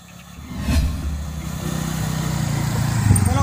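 Motorcycle engine running close by, a steady mid-pitched drone that rises slightly as it revs, alone without talk.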